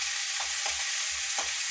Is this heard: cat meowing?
no